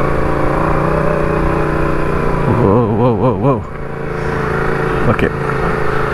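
A Yamaha MT-07 motorcycle engine runs steadily on a slippery, debris-strewn road, its note rising and falling in a brief rev midway, with a person talking over it.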